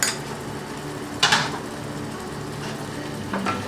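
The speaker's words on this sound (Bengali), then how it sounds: "আমি আস্তে আস্তে করে কষাচ্ছি" Cashew nut paste stirred and fried slowly over low heat in a pan, a steady soft sizzle broken by a couple of brief scraping stirs of the spoon against the pan.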